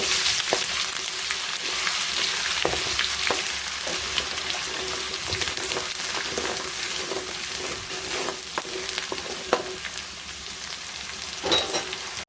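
Ginger garlic paste fries on a low flame for chicken pickle, making a constant soft sizzle punctuated by intermittent stirring scrapes and taps, close by with no voices.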